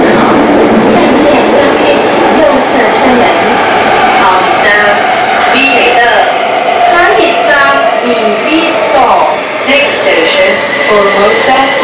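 Inside a TRA train riding toward Weiwuying in Kaohsiung, Taiwan, a loud steady rumble of carriage and track noise carries throughout, with voices and chatter from passengers layered on top.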